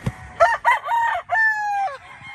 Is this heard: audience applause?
no